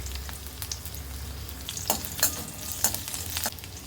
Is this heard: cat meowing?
no